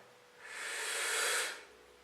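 Slow, deep exhalation through the mouth during a breathing exercise, a single close airy rush that swells for about a second and fades, with no talking.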